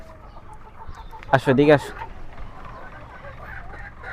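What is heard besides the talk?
chickens clucking while being fed in the morning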